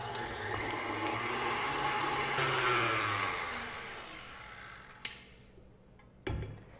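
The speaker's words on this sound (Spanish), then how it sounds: "voy a agregar aquí un queso crema y lo voy a cremar un poquito a que se suavice" An electric mixer whirs steadily while creaming cream cheese for a celebration cake filling, loud and close at first, then easing down before stopping, with a couple of light clicks near the end.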